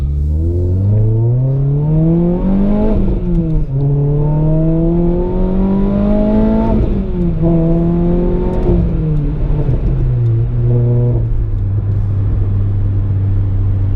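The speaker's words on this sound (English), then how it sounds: "I am actually going to have to reverse to get off this" A Renault Clio RS 200 reversing: the engine revs up through several rising, falling whines in quick succession, close and loud, then settles into a steady idle hum.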